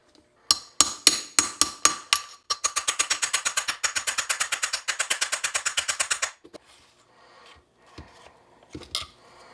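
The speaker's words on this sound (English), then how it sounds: "We're taking the 2 screws out, so I guess I'll punch the pins out" A hammer drives punches against pins in a 1974 Porsche 911 magnesium engine case. There are several spaced metallic strikes, then a fast steady run of sharp close taps, then a few scattered knocks.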